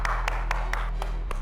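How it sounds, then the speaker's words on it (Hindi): Single hand claps ring out in an office, about six sharp, evenly spaced strikes over a steady low electrical hum, with no crowd joining in. "ताली बजाओ बजाओ।"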